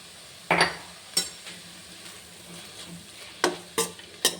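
Radish greens stir-fry with peanuts being stirred in a pan, with a steady soft sizzle underneath and a few sharp scraping and clinking strokes of the spoon against the pan at irregular intervals.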